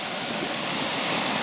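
Steady, loud rushing of the River Wansbeck flowing close by, a constant wash of water with no break and no voices.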